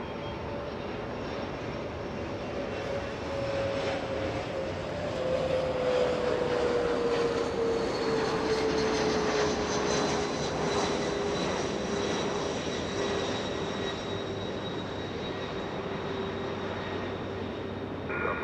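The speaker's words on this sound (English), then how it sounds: "SkyWest 5864 flying in from Sacramento, California. CRJ 200 coming in." A SkyWest CRJ 200 regional jet landing at Los Angeles International Airport, its engines a steady broad roar with a slowly falling whine that holds loud and continuous throughout.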